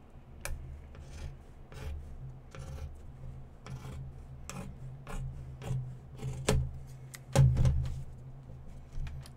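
Scissors snipping through a piece of fabric being trimmed for an appliqué hair slide, a steady run of close, soft rasping cuts with a few sharper snips toward the end, no talking.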